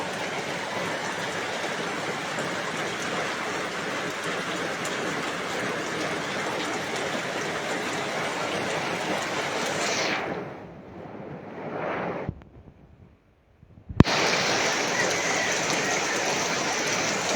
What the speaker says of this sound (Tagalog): Oh, ayan na naman ang ulan.